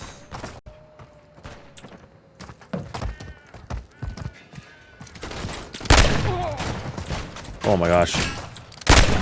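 Bursts of gunfire crack out in Call of Duty MW3 Warzone, with scattered single shots early that build into dense, loud volleys, and a player exclaims over the shooting.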